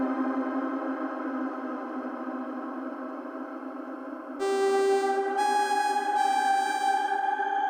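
Empress Zoia shimmer reverb with pitch shifting, a sustained, washy synthetic pad of layered tones that suddenly brightens partway through as higher shimmering harmonics and pitch-shifted layers join, ringing on smoothly.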